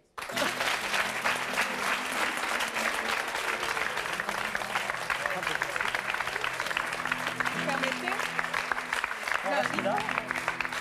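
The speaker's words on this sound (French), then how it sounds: "Je vous demande d'applaudir plutôt, puisqu'ils sont dans le public, nos deux prochains invités, Jean et Pierre" A studio audience claps for two guests, Jean and Pierre Pradel, at a French television talk show, a steady dense applause lasting the whole time with a voice faintly underneath.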